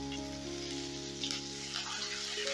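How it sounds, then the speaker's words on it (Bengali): Chopped onion fries in hot oil in a pan after a spice tempering, giving a soft, continuous sizzle with faint crackles over a steady background hum. "ফোড়নটা ভাজা হয়ে গেছে, এবারে আমি দিয়ে দিচ্ছি পেঁয়াজ"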